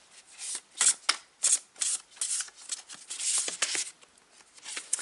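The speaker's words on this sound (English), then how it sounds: "No, shuffling a little more." Tarot cards are shuffled by hand in a run of crisp, repeated riffling bursts, close and fairly loud, with uneven rhythm throughout.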